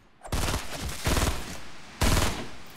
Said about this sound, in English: You shooting at someone or they shooting at you?